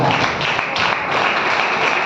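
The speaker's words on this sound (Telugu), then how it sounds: "దేవుని గట్టిగా చప్పట్లు కొడదాం" A church congregation claps together, a dense, loud and steady wash of applause that fills the whole moment without a break.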